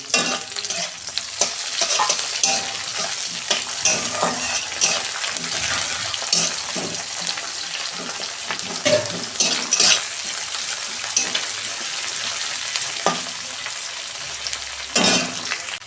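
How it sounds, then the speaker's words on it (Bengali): Onions with curry leaves fry in a pan for a fish curry made with mango, giving a steady close sizzle broken by repeated scraping stirs of a spatula, with no one speaking. "এই যে পেঁয়াজ দিচ্ছি, পেঁয়াজটা আমি ভালো করে ভেজে নেবো লাল লাল করে।"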